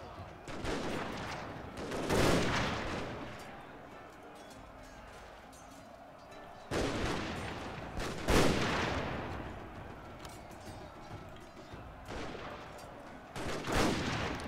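Musket volleys in Total War: Shogun 2, a few broad crackling bursts of massed fire spaced several seconds apart, with quieter battlefield noise between them.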